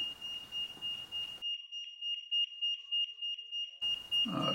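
A high, piercing electronic alarm from an Aeotec Gen5 ZW080 Z-Wave siren sounds steadily, pulsing in rapid repeated bursts, loud and close, with a brief rustle at the end.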